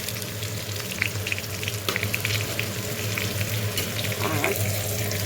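Steady, close frying sizzle fills a pan, broken by clinks and scrapes of stirring, with faint water running in the background and no speech.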